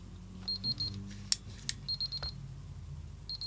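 Bursts of high electronic beeps from an airsoft Perun V2 optical trigger unit in quick groups of three, with a couple of sharp clicks in between, sounding close and clear.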